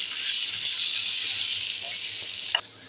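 Green chilies sautéing in a pan with salt for a dahi mirchi recipe, giving a steady close hiss and crackle of frying oil with a single small clink near the end.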